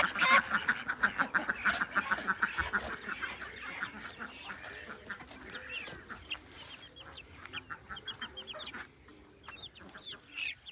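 Chicken chicks peep and cheep in a flock, a busy stream of high chirps close by with poultry clucking mixed in and someone speaking briefly.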